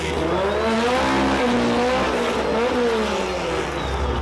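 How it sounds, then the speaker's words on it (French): A race car on a circuit at full throttle roars close and loud, engine pitch climbing and dropping through gear changes for a few seconds, with no voices. "elle va plein gaz jusqu'au bout"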